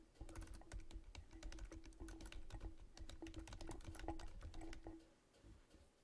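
Quick, close keystrokes patter on a computer keyboard in a continuous run of irregular clicks while someone types text into an Excel spreadsheet. The typing eases off near the end.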